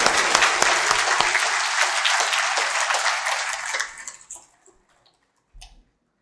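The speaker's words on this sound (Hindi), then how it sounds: "एक बार जोरदार करताल ध्वनि से स्वागत करेंगे।" An audience at a Hindi-language gathering on education and the nation gives loud, dense applause that carries on for several seconds, then thins into a few scattered claps and stops, with one brief clap-like thump afterward.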